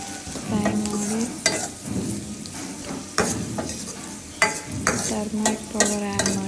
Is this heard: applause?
no